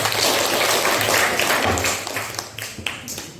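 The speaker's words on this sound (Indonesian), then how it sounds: "Berikan aplaus untuk kelompok 3." A group audience applauds for group 3 in a classroom setting, with dense steady clapping that thins out into scattered claps toward the end.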